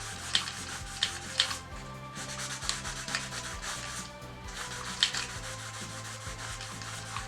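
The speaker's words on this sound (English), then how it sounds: "you're going to start by sanding. We're just going to get all these letters off." Steady rubbing and scraping of sandpaper over a prop surface to strip painted letters, with a few sharper strokes and clicks standing out, close and fairly quiet, no talking.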